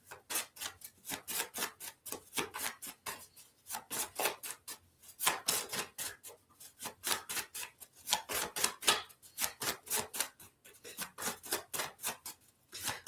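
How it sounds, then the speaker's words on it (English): A deck of cards being shuffled up close, a fast run of crisp riffling bursts that repeat in rhythmic waves with short gaps between them, with no voices. "They are a good card to shuffle."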